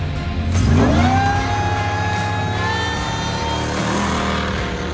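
Loud engine of a Jeep CJ fitted with a supercharged 4.4-liter Cadillac V8, revving hard and rising in pitch, roaring steadily close by throughout.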